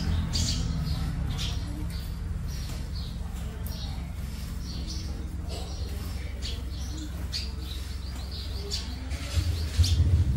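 Several seven-coloured sunbirds singing among other sunbird species, with bursts of high, thin chirps and trills repeating through the clip over a steady low hum.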